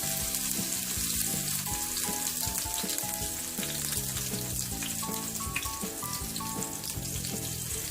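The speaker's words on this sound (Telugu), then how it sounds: "ఆయిల్ వేడికిన తర్వాత సన్నగా కట్ చేసి పెట్టుకున్న పచ్చిమిర్చి ఇందులోకి వేసుకోవాలి" Thinly sliced green chillies fry in about two spoons of hot oil, giving a steady, continuous sizzle, with music playing over the top.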